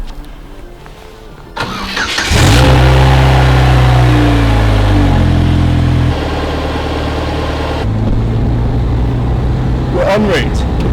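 A Vauxhall VX220, naturally aspirated, starts up and then revs and accelerates, its engine note rising and shifting through several pitch steps before settling, loud and close, with some voices faintly underneath.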